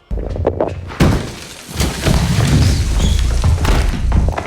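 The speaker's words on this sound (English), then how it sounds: "you can hear how hard the punches from this giant man really are" Film fight scene with a giant man's heavy punches and a house being wrecked: loud crashing thuds, breaking and slamming impacts pile up in a dense, continuous barrage.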